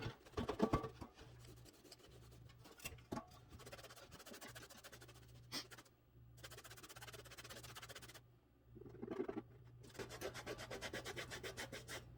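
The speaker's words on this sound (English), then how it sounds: "we're going to take a soft rag and we're going to rub our leather down until it's cleaned up" Soft rag rubbing down the leather bellows of a bee smoker, a close, steady scratchy rasp of cloth on leather with brief pauses and a few sharper scrapes, no talking.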